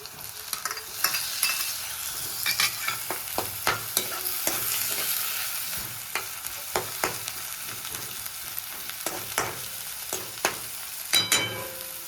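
Tomato goes into onions frying in a pan on low heat for Gujarati batata poha, with a steady sizzle and repeated sharp scrapes and clicks of stirring throughout, close and without talk.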